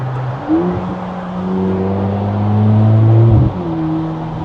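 A Mercedes-Benz SL43 AMG engine revs up and accelerates in race mode, a loud, close, rising drone that climbs steadily in pitch, drops briefly at a gear change, then pulls again.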